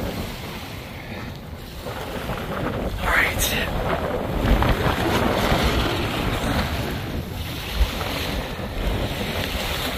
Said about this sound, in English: Just do more right-handed paddling.